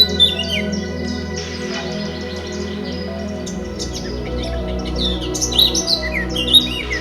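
Several birds sing in a Polish forest, with scattered chirps and trills near and far over a steady, low tonal backdrop.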